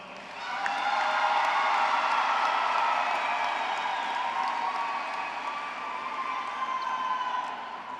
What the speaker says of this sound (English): would you please join me in applauding all of the deserving young adults?